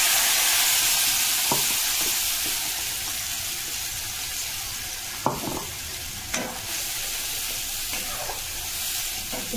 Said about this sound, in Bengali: এবারে আদা রসুন টমেটোটাকে দিয়ে দেবো।